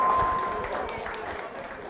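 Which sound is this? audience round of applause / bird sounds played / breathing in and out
audience round of applause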